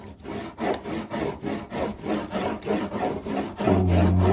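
A watercolour pencil pressed hard and scrubbed back and forth across paper, giving a steady rhythmic scratchy rubbing of about two strokes per second, close and fairly loud, with a low tonal hum rising near the end.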